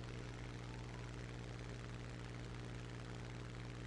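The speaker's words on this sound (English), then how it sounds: "But I do hate to fly with the damaged engine." Damaged aircraft engine in the combat flight game War Thunder, a steady, dense droning roar with a low constant hum, unbroken and even throughout with no speech.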